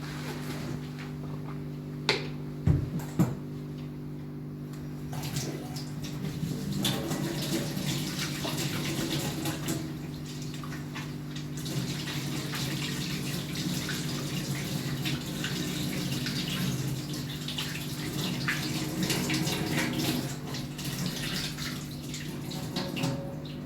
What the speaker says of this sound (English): but first I'll wash my hands